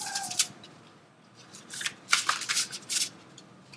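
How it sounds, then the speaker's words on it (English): A deck of tarot cards being shuffled during a card reading, with soft riffling bursts of paper cards, close and quiet, with no voices. "then I want to shuffle one more out of the deck"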